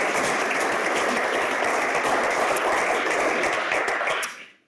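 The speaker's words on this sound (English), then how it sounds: "can we give them a big round of applause?" Sustained audience applause at a business sales conference session, a dense, even wash of many hands clapping that continues steadily before cutting off at the end.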